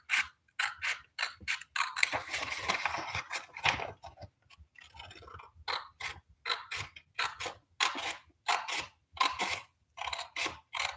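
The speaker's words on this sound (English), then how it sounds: "Right now, if my scissors will work." Scissors snip paper in a steady series of short, crisp cuts, some quick and some spaced apart, close up and fairly quiet.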